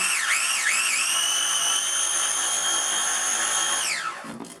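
Food processor blitzing graham cracker crumbs for a key lime pie crust, a loud high motor whine that pulses briefly at the start, holds steady, then winds down as it switches off.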